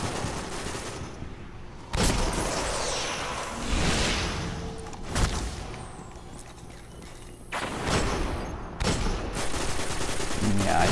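Hand cannon gunfire in the video game Destiny: heavy, widely spaced shots ring out one at a time over a constant game backdrop, each a sharp loud crack with a short tail.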